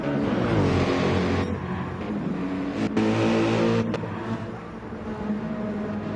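A Ferrari 458 Italia engine in the racing game GT7 drones steadily at Circuit de Sainte Croix, a continuous high-revving race-car tone shifting pitch through gear changes, loud and unbroken with no voices.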